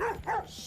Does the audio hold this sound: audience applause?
no